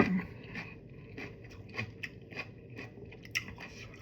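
Close, crisp crunching and biting of bullet jellyfish being chewed, a string of small irregular crackles heard alone.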